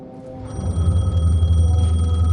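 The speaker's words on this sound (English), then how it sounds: "The phone was ringing." A telephone rings in the Alan Wake 2 video game, a steady ringing tone held over a low droning ambience that swells in after a quiet start.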